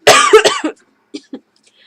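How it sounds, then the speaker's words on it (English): A few short, dry coughs right after a burst of louder coughing, then quiet; close to the mic with no talking. "I have a cough, I'm sorry."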